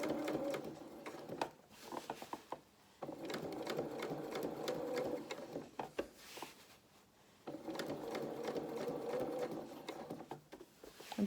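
A sewing machine runs in long steady bursts while stitching a seam in dungaree fabric, pausing briefly twice as the fabric is repositioned, with a close, even mechanical whirr throughout.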